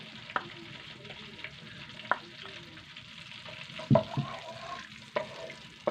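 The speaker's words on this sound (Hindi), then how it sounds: "इसको तकरीबन हम 1 मिनट तक के लिए फ्राई करेंगे।" Steady frying sizzle of whole spices in ghee, with occasional sharp clinks and scrapes of a spoon stirring in a pan, no talking.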